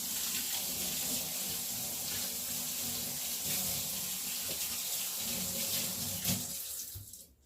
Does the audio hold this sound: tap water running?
yes